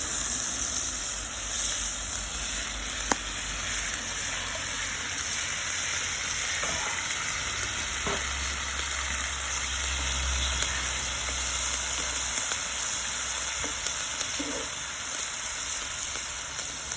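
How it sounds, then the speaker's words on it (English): Chopped tomatoes sizzle in garlic oil in a pan over a Flames Co fire pit, giving a steady, close hiss of frying with occasional soft pops and stirring clinks throughout. "Now I'm going to go in with the chopped tomatoes."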